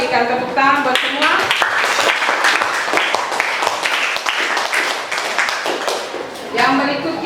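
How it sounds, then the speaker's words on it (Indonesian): A classroom group claps together in dense, steady applause that runs the full length, with a voice speaking briefly at the start and again at the end. "Kita berikan tepuk tangan buat semua."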